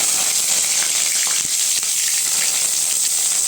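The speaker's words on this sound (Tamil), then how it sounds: "கடுகு சேர்த்துக்கலாங்க கருவேப்பிலை சேர்த்துக்கலாம்" Mustard seeds and curry leaves sizzle in hot oil for a kulambu tempering, a dense, loud, steady crackling hiss close up with scattered pops and no voices.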